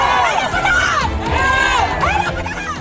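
Hundreds of market traders protest in a street at Pasar Horas, Pematang Siantar, North Sumatra; a loud, dense crowd roar of shouting voices and babble fills the scene continuously.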